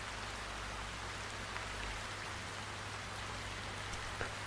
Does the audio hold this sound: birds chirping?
no